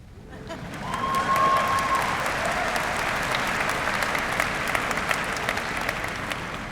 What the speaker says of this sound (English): This is when you applause.